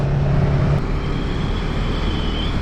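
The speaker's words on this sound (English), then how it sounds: "this thing just has that ballsy V-twin sound" A Suzuki SV650X motorcycle with a V-twin engine rides along a winding road, a continuous loud engine drone with rushing wind and a slight pitch shift as the throttle eases off, no voices.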